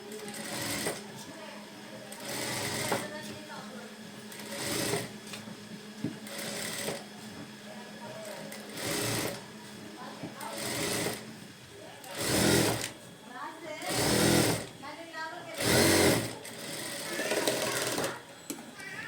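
Sewing machine running in repeated bursts while stitching invisible-thread piping onto a fabric piece, the motor whirring loud and close between short pauses, with a voice talking at times.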